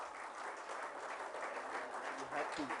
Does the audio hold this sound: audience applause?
yes